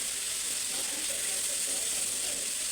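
Fish coated in masala frying in oil on a flat pan, a steady, even sizzle holding without a break throughout.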